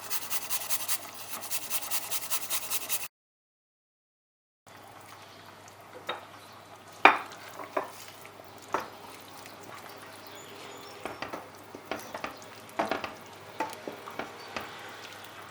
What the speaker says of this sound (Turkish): fesleğen ve sarımsakları ekledikten sonra şu şekilde patlıcanları erittirmeden bir karıştırıyoruz